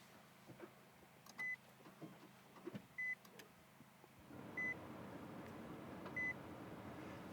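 A Nissan Leaf electric car starts up inside the cabin, giving four short, evenly spaced electronic beeps over a faint hum that grows steadier and louder partway through as the car's systems come on.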